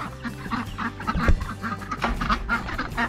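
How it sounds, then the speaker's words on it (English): Ducks on a farm quack in a steady, overlapping chorus at moderate distance, with soft honks under a low background hum. "And there's the ducks."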